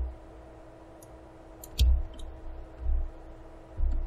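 Computer mouse clicks during 3D modelling work, three or four soft, isolated clicks spaced about a second apart over a quiet room hum.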